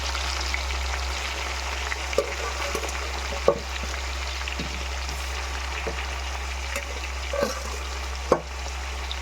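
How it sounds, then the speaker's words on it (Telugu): Chicken frying in hot oil for a pickle, a steady close sizzle throughout with scattered sharp pops and crackles, several louder bursts standing out. "చికెన్ ఫ్రై అయ్యేటప్పుడు పేలుతూ ఉంటుంది."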